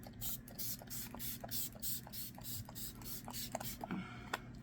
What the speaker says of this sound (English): I'm going to spray my face with the MAC Fix Plus